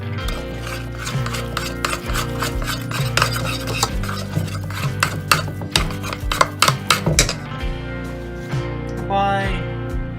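A whisk scrapes and rattles continuously against a metal pot while macaroni and cheese sauce is stirred, a busy, close rhythmic clatter that eases off near the end.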